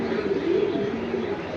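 Pigeons coo at the Jinjira bazaar pigeon market in Keraniganj, a steady overlapping chorus of soft throaty calls from many nearby birds with faint chirps mixed in, and no one talking.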